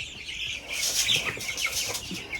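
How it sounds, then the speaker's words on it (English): Three-week-old chicks in a brooder make a burst of high, busy peeping and cheeping with some soft fluttering. The sounds are close by and moderately loud, with no voices. "Here we have these chicks. They are in the brooder."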